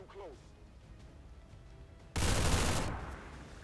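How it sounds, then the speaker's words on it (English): Single heavy gunshot blast in XCOM 2, loud and abrupt after a stretch of quiet ambience, with its roar decaying over about a second; faint game sounds precede it. "Apparently I tried to take a shot at him."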